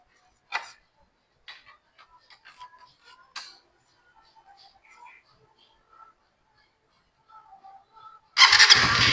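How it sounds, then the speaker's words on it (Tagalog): A 2024 Rusi Raider 150 Fi motorcycle with 10,000 km on the odometer starts after a spark plug and air filter change. Faint clicks and ticks give way to the engine suddenly roaring to life, loud and close, at the very end. "pandarin muna natin kung andar siya mga boss"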